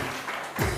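Brief applause from a studio audience on a Hindi morning television show, a dense patter of clapping that swells louder toward the end of the short burst.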